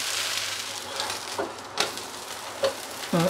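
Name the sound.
chilla with carrot and onion frying in oil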